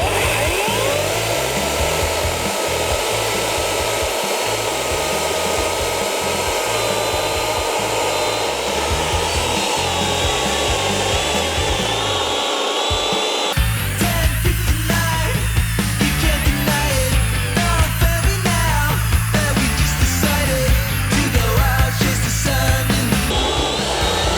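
A Grosser GCS 142 cordless chainsaw cuts through a wooden stump slightly thicker than its bar, its steady high motor whine shifting to a rougher, loaded buzz partway through as the chain bites into the wood.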